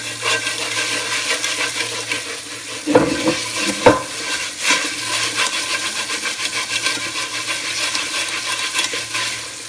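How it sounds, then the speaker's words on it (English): A cast iron skillet scrubbed with a scrubber, a continuous rough scraping hiss with a couple of louder clunks and knocks of metal early on, close and fairly loud, no talk. "Alright, let's try it with the scrubber. It's starting to come off."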